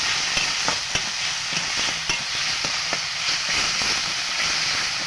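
Mustard paste stirred into tilapia frying in oil in a pan, a steady close sizzle and hiss broken by regular scraping stirs, with no talk.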